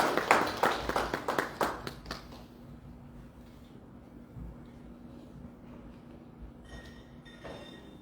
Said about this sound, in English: Give a round of applause to Doreen.